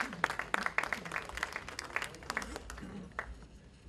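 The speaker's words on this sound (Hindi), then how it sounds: "तालियां कुछ कम बजा रहे हैं," Audience applause at a mushaira poetry gathering in Delhi, fairly thin, scattered clapping lasting a few seconds, with a voice briefly heard over it.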